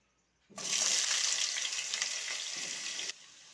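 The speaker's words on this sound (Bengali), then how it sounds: "কড়াইয়ে সরষের তেল দিয়েছি, তেলটা গরম হয়ে গেছে। এবারে এতে আমি দিয়ে দেব আলু" Potatoes hit hot mustard oil in a wok with a sudden loud sizzle. The frying stays steady and close for a few seconds, then cuts off abruptly, and no voice is heard.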